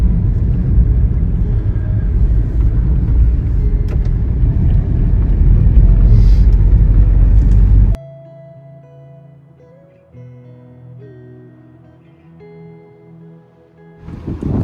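A car drives along a dusty mountain road in Ladakh. A steady, loud engine and road rumble holds for about eight seconds, then cuts to a quieter stretch with faint tonal sounds and low hum.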